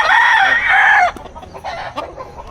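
A chicken clucks loudly and close for about a second on a private property by a fishing pond, then falls quiet and clucks again in a few shorter, softer bursts.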